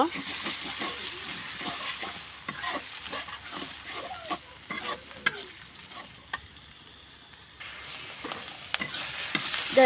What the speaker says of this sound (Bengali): পেঁয়াজ বাটাটা আমি ভালোভাবে ভেজে নেব।